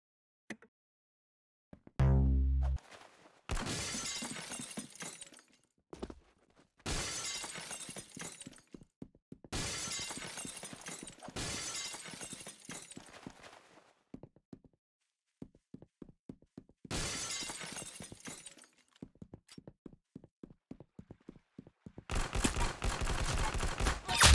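Gunfire in the Roblox game Arsenal comes in repeated bursts of rapid shots separated by short pauses, loud and close, with scattered single clicks and no talk.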